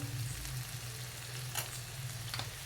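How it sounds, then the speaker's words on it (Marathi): Vegetables sauté with homemade garam masala for a village-style veg biryani, a soft steady sizzle with a low hum and a couple of brief scrapes of stirring, quiet, no talk. "आता चांगली परतून घ्यायची आपल्याला भाजी"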